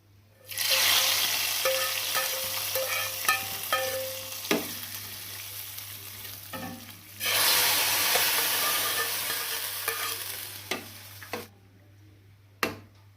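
Curry leaves crackle and sizzle in hot oil as a tempering for a Kerala-style mushroom stew, a loud steady frying hiss with small pops, broken by a pause and stirring clatter before the sizzling resumes and then cuts off.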